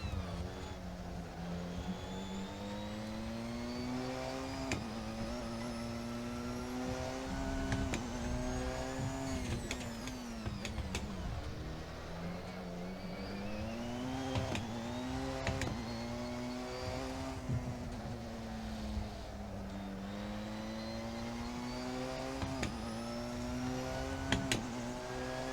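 A hybrid race car with heavy battery deployment drives in a sim racing game. The engine revs rise and fall repeatedly through gear changes, sustained and fairly quiet, with no talk.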